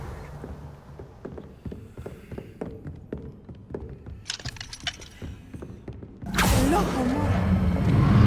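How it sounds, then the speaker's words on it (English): In the video game Hogwarts Legacy, a door creaks open through a run of slow, rhythmic wooden creaks and clicks, followed by higher jangling, then a loud swelling rush as it swings wide. "I will get the door."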